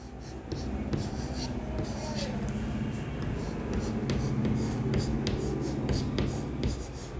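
Marker or chalk scratches across a classroom board in steady, rhythmic strokes during a chemistry lesson, with faint room noise and no voices.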